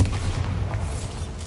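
Bombarda spell explosion in Hogwarts Legacy, a deep booming blast that hits at once and then trails off into a low rumbling decay.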